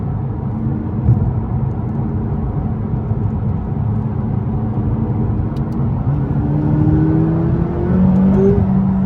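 A McLaren 570S Coupe pulls away, its engine note a steady close-up drone that rises in pitch toward the end as it accelerates.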